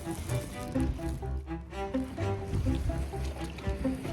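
A round bamboo coracle rides the river at Hogenakkal Falls, Tamil Nadu, with a continuous rush and slosh of water around the hull and muffled voices and low tones mixed in, loud and close throughout.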